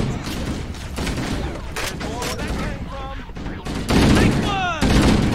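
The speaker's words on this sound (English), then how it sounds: "I think that's an assault rifle. A futuristic one, but still, it's better than the little pistol. And it's shredding things up." Bursts of futuristic assault rifle fire from Halo: Combat Evolved Anniversary on Xbox Series X, dense and rattling, running through the whole stretch with louder volleys near the end, mixed with in-game effects while someone talks over them.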